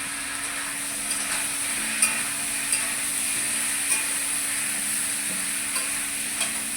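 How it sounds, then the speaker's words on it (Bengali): Food fries with turmeric and salt while it is stirred in a pan, giving a steady close sizzle with soft periodic scrapes and taps from the spoon. "এবার আমি ভালো করে নেড়ে চেড়ে নেবো।"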